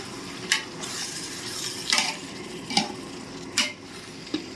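Tiger prawn pulao ingredients stirred in a pan with a spoon, giving a few scraping strokes and light clinks spaced about a second apart over a soft background sizzle.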